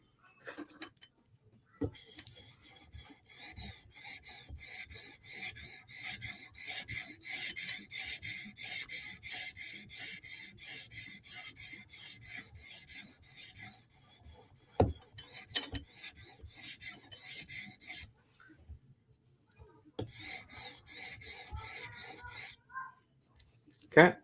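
A knife is drawn across an 800-grit stone on a TSProf Kadet guided sharpener, making close, rhythmic rasping strokes in bursts separated by short pauses.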